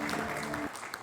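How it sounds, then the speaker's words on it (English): An audience applauds a guest of honor, a short burst of dense clapping that cuts off abruptly partway through, then fades under a brief murmur. "let's give him a big round of applause"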